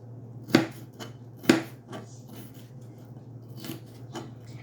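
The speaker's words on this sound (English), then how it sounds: "I'm just gonna slice all these vegetables" A knife slices vegetables on a cutting board for chili, with two sharp, distinct chops near the start, then a few softer cuts spaced out against a quiet kitchen hum.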